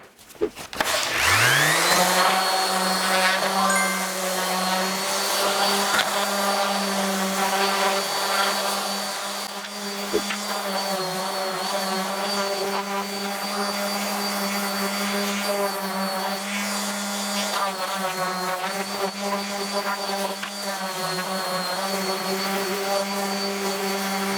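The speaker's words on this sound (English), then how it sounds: "I'm gonna sand some of this paint off so you can see that wood grain come through, sand around the corners and the edges" Steady, high-pitched whine of a powered sander taking paint off a wooden popsicle-stick door hanger, running continuously and loud close up with no speech.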